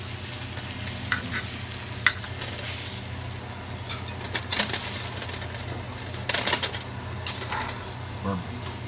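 French toast sizzles steadily in a hot pan while a spatula scrapes and flips the slices, giving several sharp clatters and scrapes over the continuous frying hiss.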